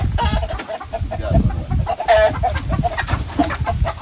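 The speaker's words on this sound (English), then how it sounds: "That white cock there, that's 12 pounds." A crossbred game rooster, a heavy white cock, clucks loudly and repeatedly at close range in a rhythmic series of throaty calls on a farm, with no talk heard.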